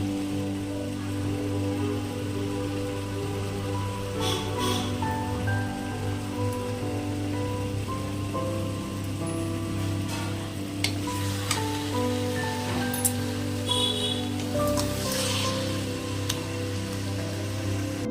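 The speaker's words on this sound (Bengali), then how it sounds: "গরম মশলা দিয়ে আঁচটা কমিয়ে আবার একটু ভালো মতো নাড়াচাড়া করে নিতে হবে" Cabbage frying in ghee with garam masala, a continuous close sizzle with scattered stirring scrapes and clicks from a spatula in the pan over a low steady hum.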